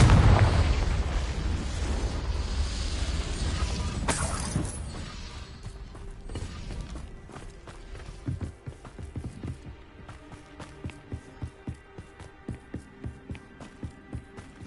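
A Confringo spell explodes in Hogwarts Legacy, opening with a loud fiery boom that rumbles and fades into scattered crackling debris pops and clinks, with no talk.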